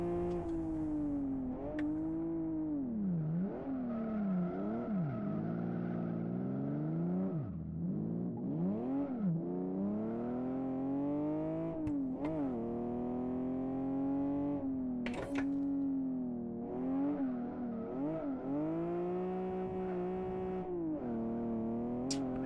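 A race car engine in the Live for Speed racing game revs over and over around a car park, its pitch swooping up and down in a loud, continuous drone with no talking.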